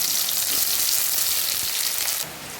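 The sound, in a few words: potatoes and onions frying in pan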